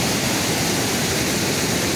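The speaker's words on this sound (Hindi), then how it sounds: "बहुत तेज गति से ये पानी यहाँ पर बह रहा है" The Kalisindh River rushes fast near a dam, a loud, steady roar of churning white water that fills the air without pause or voices.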